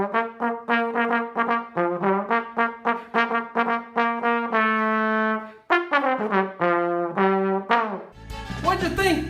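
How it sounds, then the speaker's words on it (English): Solo trombone plays a bouncy melody of short, separate notes, then holds a few longer tones, close and clear, for a preschool music class at home; a burst of other sound enters at the very end. "That's the sound of the trombone."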